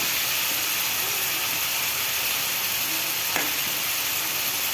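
Coarse spice paste for a prawn curry fries in a pan with a steady, close sizzle and one small clink partway through, with no talking.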